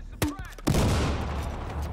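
Gunfire in the Battlefield Hardline beta, a couple of sharp nearby shots followed by a rumbling, echoing burst that fades out.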